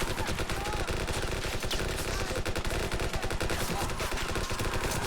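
Gunfire in a firefight between ant armies in Armies of the Undergrowth, a relentless, dense rattle of rapid machine-gun shots and crackling bursts, loud and continuous from start to end.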